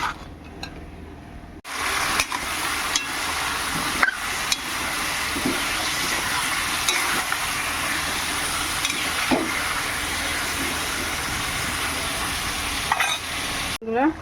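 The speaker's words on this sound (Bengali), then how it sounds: "এই যে মাংসটা কষানো চলছে" Meat sizzles and fries in a pan while being stirred, a dense continuous hiss with scraping and clinking of the utensil, loud and close, broken by a brief pause near the start and at the end.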